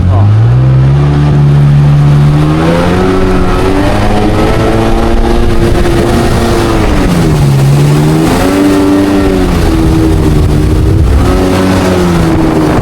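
A jet ski engine revs up and down under throttle during a ride, its loud droning pitch rising and falling in several surges throughout, with wind noise and occasional voices in the background.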